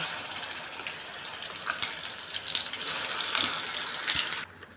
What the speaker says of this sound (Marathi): तर आता हे तेल गरम झालेलं आहे, त्यामध्ये मी आता हे वाटण टाकून घेते।